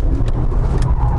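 A 2006 Mercedes-Benz E 55 AMG estate engine drones loudly and steadily from close by, a dense low rumble with no talk over it.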